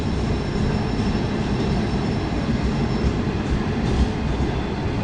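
A slow Chinese passenger train with sleeper cars passes close by, a steady loud rumble of rolling wagons with faint clickety-clack running throughout, without speech.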